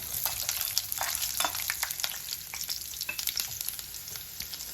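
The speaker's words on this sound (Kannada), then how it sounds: "ಈಗ ಬೀಜ ಫ್ರೈ ಆಗ್ತಾಯಿದೆ" Seeds frying in a pan, a continuous crackling sizzle with scattered sharp pops throughout, fairly quiet and steady with no talking.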